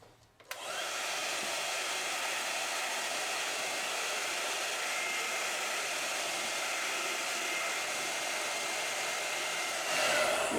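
A hair dryer blows steadily at close range to dry acrylic paint on a canvas, a constant even whoosh that starts abruptly and runs alone for about ten seconds.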